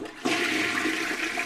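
A toilet flush roars in after a brief quiet moment, a loud, steady rushing of water that carries on alone to the end.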